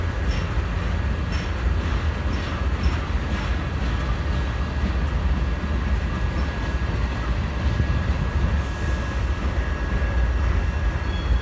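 CSX freight train Q692 led by an SD70AC locomotive passing northbound on the Clinchfield line, a steady loud rumble of rolling cars with faint rhythmic clicks and squeals throughout, no talk.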